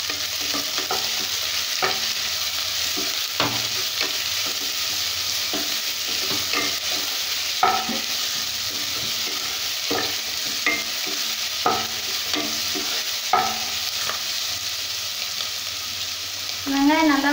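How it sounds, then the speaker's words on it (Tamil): Onions sautéing in a pan for mushroom curry: a constant close sizzle with repeated scraping stirs at an irregular pace, alone without talk. "வெங்காயம் நல்லா வதங்கட்டும்."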